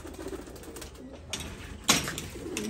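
Saleti Kamanghar pigeons kept by a fancier in Punjab coo faintly and intermittently in a quiet setting, with a few sharp mechanical clicks.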